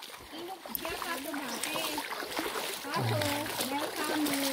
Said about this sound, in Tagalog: Sapa pala to, sapa.